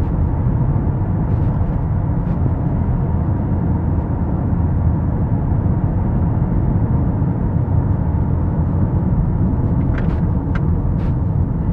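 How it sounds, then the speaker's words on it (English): A Honda Accord drives along a dark back road at night, its steady low engine and road rumble filling the cabin continuously, with a few faint high ticks near the end. "I'm driving in a back road where it doesn't have a lot of street lights."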